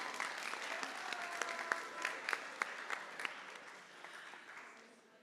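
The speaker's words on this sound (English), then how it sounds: "Give yourselves a round of applause." Orientation attendees applaud themselves in a room, a sustained round of many hands clapping at fairly low level, with a few sharper claps standing out before it tapers off toward the end.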